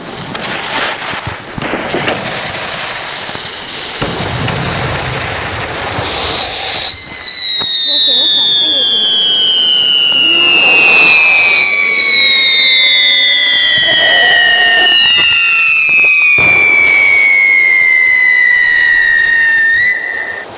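Firecrackers set off on the ground burst loudly with sharp cracks, followed by several long whistling tones that slide steadily downward in pitch and overlap one another for many seconds.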